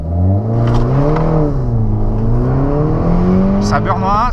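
Citroen DS3 Racing engine, 203 hp, heard from inside the cabin with the windows closed, revving and accelerating with a rising, loud drone through the gears, mixed with some talk.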